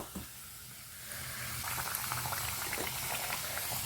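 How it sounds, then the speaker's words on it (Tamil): Urad dal vadas deep-frying in oil over a medium flame, a steady close bubbling and sizzling that thickens after the first second and carries on evenly without a break. "அதனால நம்ம மீடியம் ஃப்ளேம்ல வச்சு பொரிச்சுக்கணும்."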